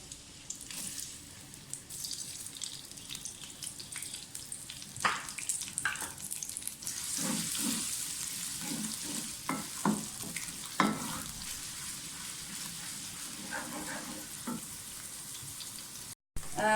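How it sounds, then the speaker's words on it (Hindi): Onions frying in a hot pan while cooking a mixed vegetable curry, a steady close sizzle with stirring scrapes and crackles throughout, no talking. "बर्तन हमारा गर्म हो गया है, सबसे पहले प्याज डाल दें।"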